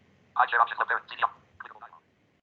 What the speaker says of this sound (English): this is the sound of my screen reader that allow me